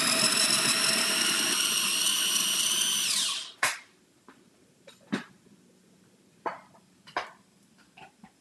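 An electric grinder whirs loudly with a high motor whine as it grinds taco ingredients, winding down after about three seconds, followed by a few scattered knocks and taps of the container being handled.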